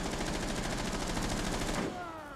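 Rapid automatic gunfire from Jackal's weapon in Rainbow Six Siege, a steady fast burst of close, loud shots lasting nearly two seconds before cutting off into a fading tail.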